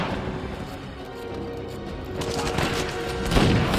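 Heavy firefight from the video game Uncharted 4 A Thief's End on PS5, a steady clatter of distant shots building into louder close blasts and a booming hit toward the end.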